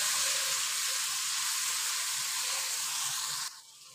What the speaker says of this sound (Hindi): अब इसमें टमाटर ऐड कर देंगे। टमाटर को भी अच्छे तरीके से मिक्स कर देंगे।